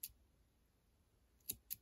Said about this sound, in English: And then snip off the end.